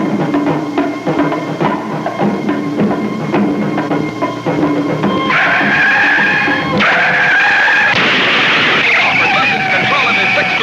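Stock cars in the 1960 World 600 at Charlotte Motor Speedway, racing in a tight pack at over 125 mph. A loud, continuous engine roar and screeching skids build toward crash noises, under a constant crowd and commentary din.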